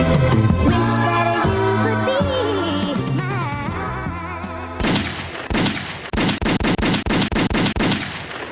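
Several gunshots in a quick, rapid burst ring out loudly over music, following a longer stretch of sustained musical tones.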